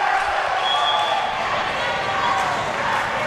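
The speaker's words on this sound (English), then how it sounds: "Crowd starting to get loud here in the CAC" A volleyball match crowd at the CAC grows loud, a dense, steady roar of cheering voices filling the space for the whole stretch, with a few faint thumps underneath.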